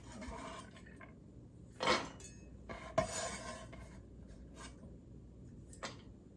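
Kitchen clatter as chopped carrot, celery and onion drop into a large pot for ragù, with a few brief clinks and knocks against a low steady background hum.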